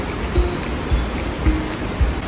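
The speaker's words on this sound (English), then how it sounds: "This is the river that the waterfall feeds." Near La Fortuna, a river fed by a waterfall gives a loud, steady roar of rushing water, with a few soft low thumps over the short stretch and no talking.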